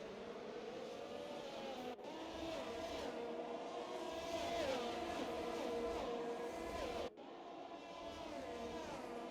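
Race cars in a sim racing game at Mexico, engines droning and rising in pitch as they accelerate and pass, with a continuous mix of several cars at moderate loudness.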